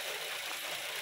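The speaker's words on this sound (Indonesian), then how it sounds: "hanya terdengar suara injektor saja." Toyota Avanza 1.3 engine at idle with its injectors ticking, a close, even mechanical ticking over a soft hum, heard alone for about a second.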